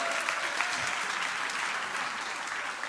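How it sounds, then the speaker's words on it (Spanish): Applause breaks out from a conference crowd for a volunteer called up on stage. Thick, continuous clapping from many hands fills the room at a steady, fairly loud level throughout the short burst. "un aplauso para Milton, el sacrificio vivo."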